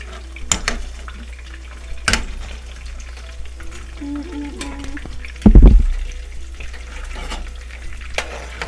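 Coconut-coated shrimp fry in hot oil with a soft, steady sizzle, broken by sharp clinks of utensils and a louder splashing burst as more pieces drop into the pan.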